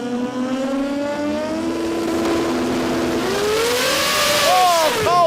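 A drag racing car with a billet 4G63 engine and compound turbos at 120 PSI screams loudly at a track. The engine pitch climbs through gear changes and ends in rapid revving, with a commentator talking over it.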